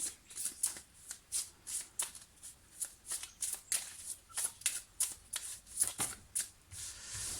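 Tarot cards shuffled by hand in a steady run of crisp riffling bursts, about a dozen close bursts repeating roughly every half second, with no talking.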